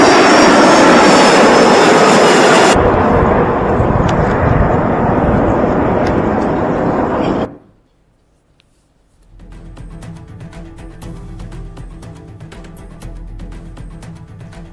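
A military jet airplane lands with a loud, roaring engine rush that cuts off abruptly, followed by a brief silence and then quieter clattering background noise.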